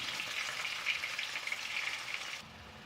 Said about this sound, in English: Now we can add onions and fry these onions until they turn brown in color.